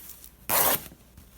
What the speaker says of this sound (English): if I can get my scissors to cut